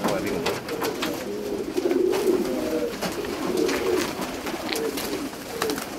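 Show pigeons at a fanciers' club gathering coo in soft, repeated rolling calls amid a busy outdoor hubbub, with people talking in the background.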